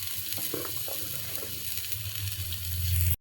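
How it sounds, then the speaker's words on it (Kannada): Onions fry in oil with a steady close sizzle and faint stirring, a low hum rising near the end before it cuts off, with no talking. "ಇವಾಗ ಸ್ವಲ್ಪ ಆಯಿಲ್ ಹಾಕ್ಕೊಂಡು ನೆಕ್ಸ್ಟ್ ಇವಾಗ ಆನಿಯನ್ ಹಾಕ್ಕೋಬೇಕು"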